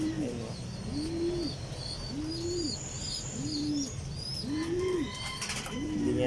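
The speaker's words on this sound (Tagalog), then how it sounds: "Ang mga kalapati na yan." Pigeons in a loft coo in a regular rhythm, one soft rolling call about every second and a half, close by, with faint chirps and twitters from other birds behind.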